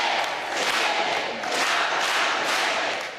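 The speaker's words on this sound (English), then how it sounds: "The crowd erupting into cheers when they see the Pope." A large crowd cheers and roars outside Sacred Heart Church in McAllen, Texas, on the U.S.-Mexico border, as Pope Francis arrives, a dense, sustained wall of shouting that swells in waves throughout.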